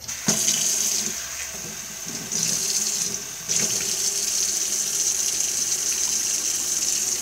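Water pours from a kitchen tap as a quarter cup is filled for homemade slime, a steady close hiss that surges louder twice as the flow is opened up, with no talking.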